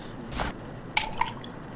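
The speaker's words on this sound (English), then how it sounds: "Pour my formaldehyde in there" Formaldehyde pours and drips in The Mortuary Assistant, a short liquid splash followed by a couple of bright, close drips in a quiet room.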